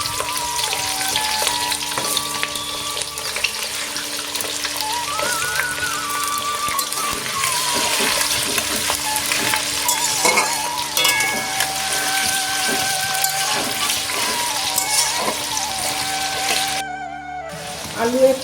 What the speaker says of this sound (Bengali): প্রথমেই আমি দিয়ে দিচ্ছি আলুগুলো একটু হালকা বাদামি কালারের করে ভেজে নেব।